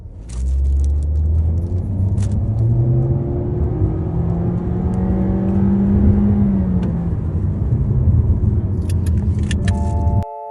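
A Honda HR-V Turbo in Sport Mode accelerates hard from 0 to 100 km/h, its engine droning and rising steadily in pitch through the gears with a loud, continuous road rumble for about ten seconds.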